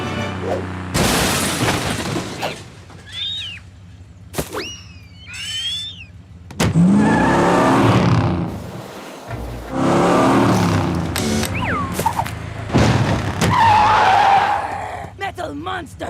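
A cartoon jungle scene with a car driving and skidding: tire screeches, revving, a boom and crashing effects come in loud bursts, mixed with music, chirpy sound effects and animated voices talking throughout.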